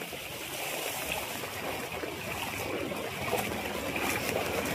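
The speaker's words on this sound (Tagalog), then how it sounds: "Talagang baha talaga ang aking dadaanan." Feet wade through knee-deep floodwater after a typhoon, giving a continuous close sloshing and swishing of water, steady and fairly soft, with no talk.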